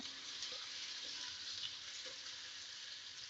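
Chopped onion frying together with potatoes in a pan, a faint, steady sizzle with no breaks and no talking.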